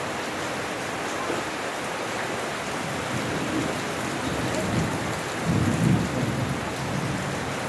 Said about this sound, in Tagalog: Bali, maulan dito sa amin guys.